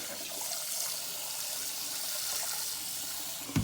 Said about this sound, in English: I just want you to keep running that cold water, overflowing for at least a couple of minutes